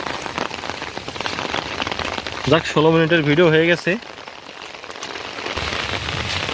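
Steady rain patters on a wetland's water throughout, with someone speaking briefly over it.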